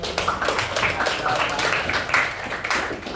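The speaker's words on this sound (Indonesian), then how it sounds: "Kalau kelas 7 tanda baca, kasih tepuk tangan." A school class of seventh graders claps hands together in a brief, busy patter, fairly close, with some voices mixed in.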